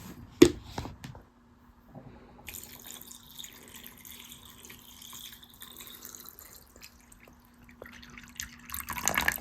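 Water pours into a rock tumbler barrel over stones, a faint trickling and splashing stream after a few sharp knocks at the start, quiet and close.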